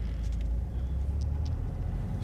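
A 2006 Ford Focus 1.6 TDCi diesel engine rumbles steadily at close range as the car drives off, a low continuous drone with no other sounds standing out.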